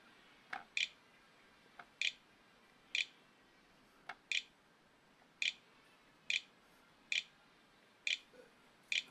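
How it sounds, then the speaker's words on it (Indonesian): Keys tapped on the internal keyboard of an Acer E5-473G laptop while entering a password, about a dozen sharp, evenly spaced clicks at close range with nothing else heard. "kita masukkan password menggunakan keyboard internal"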